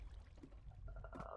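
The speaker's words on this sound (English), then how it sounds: "I'm gonna put a water source just in case you fall" Water source being placed in the blocky Bed Wars game, a faint, brief liquid pouring and trickling splash heard quietly with no talk.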